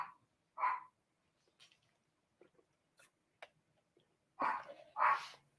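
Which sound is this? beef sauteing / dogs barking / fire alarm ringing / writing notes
dogs barking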